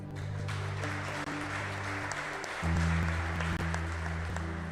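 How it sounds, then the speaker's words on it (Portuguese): A church congregation applauds steadily throughout, a dense sustained wash of clapping with sustained tones from an organ or keyboard underneath that swell louder partway through. "Quem crê nisso, aplauda o Senhor."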